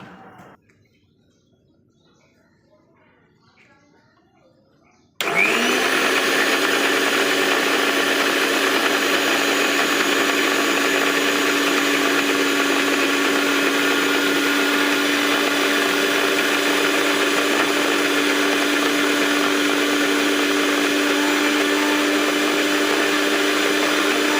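A kitchen mixer grinder switches on after a quiet start and then whirs loudly and steadily, churning mustard and poppy seed paste with a little water.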